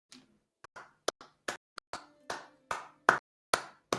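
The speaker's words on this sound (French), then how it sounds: "On applaudit." Hands clapping in brief applause, about a dozen sharp, close claps arriving in an uneven rhythm over a few seconds, with nothing else heard.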